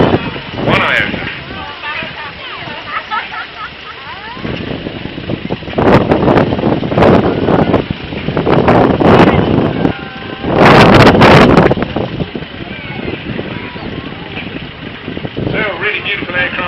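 Strong, gusty wind at a seaside air show buffets the microphone in loud rushing surges that rise and fall, with a voice talking over it throughout.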